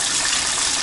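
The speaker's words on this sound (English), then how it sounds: "So we're gonna see if we can flow some water through this." Water gushes steadily through a hose while filling a wood-fired cedar hot tub, a loud, continuous rushing wash heard alone for under a second.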